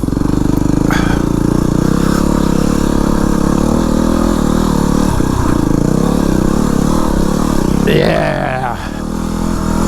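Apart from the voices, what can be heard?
Yamaha WR250R dirt bike riding uphill on single track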